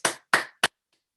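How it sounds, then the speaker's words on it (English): Three sharp, loud claps come at a conference, spaced apart, the last one shortest, then silence. "Give him a big round of applause."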